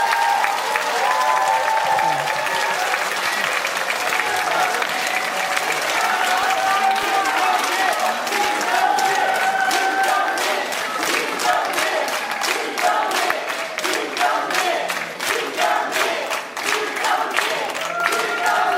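A forum audience applauds after a lecture on international politics, a dense, steady wash of many hands clapping that stays loud for nearly twenty seconds before thinning slightly near the end.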